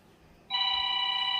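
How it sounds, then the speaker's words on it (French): A home landline telephone rings with a steady electronic trill, starting abruptly partway through and continuing loud and unbroken, alone with no talk over it. "Téléphone maison."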